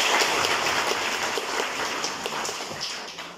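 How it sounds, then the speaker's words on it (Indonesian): Steady applause comes from a group at the close of an arithmetic training session, a dense, even patter of many hands that fades slightly toward the end. "Tepuk tangan untuk kita semua."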